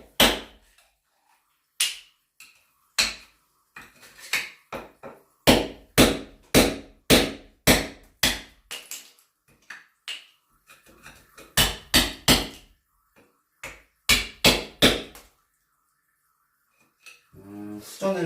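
A hammer and chisel break out bathroom tile that was scored with a tile-cutting blade to expose a leaking water pipe. The sharp, loud blows come one by one and in rapid clusters, with brief pauses and small debris rattles between them.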